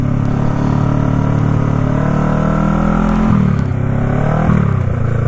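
A Honda Rebel 500 motorcycle on a ride, its engine droning loud and continuous with steady rumble and wind, rising and falling slightly in pitch as it runs, close to the rider with no talk.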